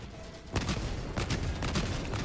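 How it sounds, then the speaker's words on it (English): Autocannon in flak mode from Helldivers 2 fires a rapid string of loud, close blasts, each with a sharp crack and a rumbling tail, over continuous battle noise. "you don't have to be super precise with the autocannon on flak mode"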